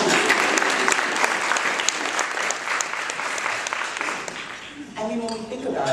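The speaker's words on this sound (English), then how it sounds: "Clap it up for yourself." Audience applause fills a luncheon hall honoring educators, a dense steady clapping that carries for about five seconds before fading as a voice returns at the end.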